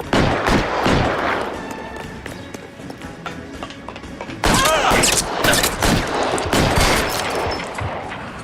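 Gunfire in the LA Noire video game, a burst of sharp shots and busy action rising to a louder, denser volley midway, with a faint voice mixed in among the game sounds.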